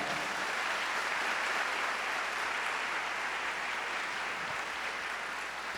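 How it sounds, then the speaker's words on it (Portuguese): A church congregation gives sustained applause during a Mass, a steady dense patter of many hands from a large crowd filling a hall. "Pode aplaudir a palavra."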